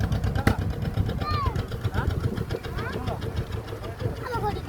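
Motor boat engine chugging steadily as the boat docks at a river ghat, with a person talking over the continuous engine noise.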